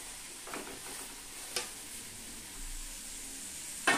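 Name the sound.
stirring grated coconut and jaggery in a hot pan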